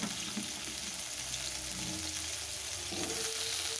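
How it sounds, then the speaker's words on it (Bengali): Diced potatoes frying in oil left over from frying lentil dumplings make a steady, fairly faint sizzle with occasional stirring scrapes and no voices. "এই বড়ি ভাজার তেলের মধ্যে আলুগুলো ডুমো ডুমো করে কেটে"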